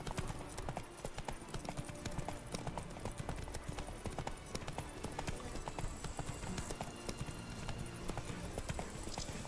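Horse hooves clop steadily and continuously in The Witcher 3, a close, even rhythm of hoofbeats running throughout with no talk over them.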